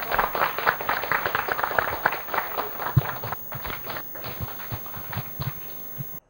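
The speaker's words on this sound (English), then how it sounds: "So I request everyone to join me in clapping them." An audience claps at a valedictory function, giving a standing ovation for the speakers; dense, rapid, close-miked claps at first, thinning and slowing toward the end before stopping abruptly.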